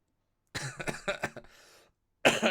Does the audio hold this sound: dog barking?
no